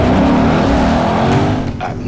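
A Lexus RC F races on a track at night, a loud sustained engine roar close by with a slight tire squeal as it passes.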